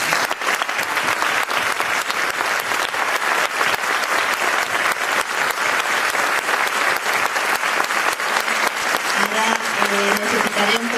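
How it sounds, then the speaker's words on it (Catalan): An audience claps steadily and loudly after a Valencian folk dance performance by a dance group in Picanya, a dense, sustained round of applause with no talk. "per favor emporteu-se un altre aplaudiment ben gran"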